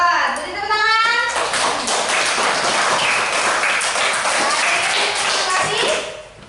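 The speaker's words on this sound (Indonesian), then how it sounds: "Beri tepuk tangan." Schoolchildren in a classroom clap for a student after a group presentation, a brisk close round of applause mixed with young voices, briefly preceded by a teacher's speech.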